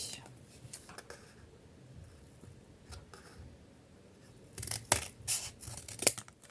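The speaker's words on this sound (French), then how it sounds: "je vais prendre mes grands ciseaux et je vais couper" Large scissors cutting craft material for a gnome hat, a few short snips near the end, sharp and close, following quiet handling noises, with faint speech in places.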